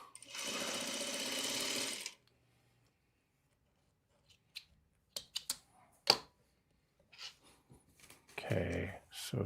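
A sewing machine runs fast for about two seconds joining fabric pieces, a buzzing mechanical rattle, then stops; scattered clicks and handling noises follow before a second short burst of stitching.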